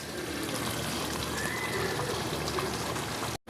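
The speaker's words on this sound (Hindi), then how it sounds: "3 गिलास पानी ऐड कर दिया" Water poured into a pot of beef kofta curry simmering in ghee-fried masala, a steady close splashing and trickling that runs unbroken for about three seconds before cutting off abruptly.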